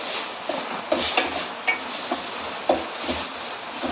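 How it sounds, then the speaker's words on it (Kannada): Okra cooking with grated coconut in a pan, a steady sizzling fry with occasional scraping stirs of a spoon against the pan. "ಫ್ರೈ ಆಗ್ತಾ ಇದೆ ನೋಡಿ"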